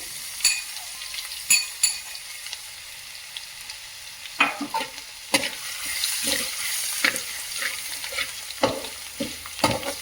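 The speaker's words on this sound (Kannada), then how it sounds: "ಬೆಳ್ಳುಳ್ಳಿನ ಕುಟ್ಟಿಟ್ಕೊಂಡಿದ್ದೀನಲ್ಲ ಕುಟ್ನಿಯಲ್ಲಿ, ಅದನ್ನ ಹಾಕ್ತಾ ಇದ್ದೀನಿ." Crushed garlic, pounded in a mortar, hits hot oil for a jowar poha tempering and sizzles steadily, with sharp pops and clatters from a stirring spoon scraping the pan at irregular intervals.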